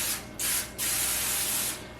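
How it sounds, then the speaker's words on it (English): Cooking spray hisses onto an aluminum baking pan in two close, loud bursts. The first is short, then after a brief gap comes a longer one lasting about a second. "so just spray our pan down"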